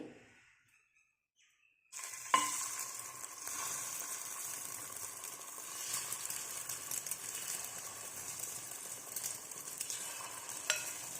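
Egg punugulu batter frying in hot oil: after a quiet start, a sudden steady crackling sizzle begins and continues evenly, close and fairly loud, with no talking.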